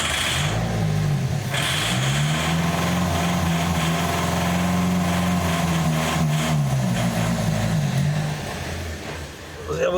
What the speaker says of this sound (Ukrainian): Тримаю газ в пол, включаємо пускове, крутимо стартером.